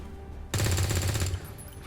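A rapid burst of gunfire from XCOM 2 War of the Chosen, a loud close rattle of repeated shots lasting under a second, then cutting off into quiet game ambience.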